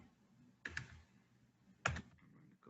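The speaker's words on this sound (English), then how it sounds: "Just clicking" Two separate computer mouse clicks a little over a second apart, each a sharp, close double tick in an otherwise quiet room with faint background hum.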